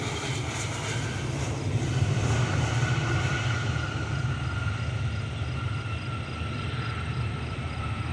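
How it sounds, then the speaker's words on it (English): A Boeing 767 airliner taxiing at Cleveland Hopkins airport makes a continuous, fairly loud engine roar and whine that holds steady the whole time, with no voices. "767 taxiing"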